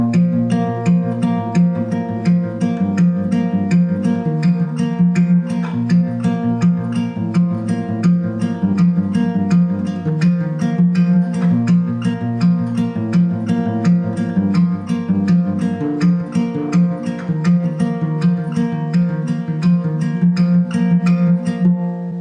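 A steady guitar passage plays on its own, strummed chords repeating in an even rhythm, full and fairly loud throughout with no voices.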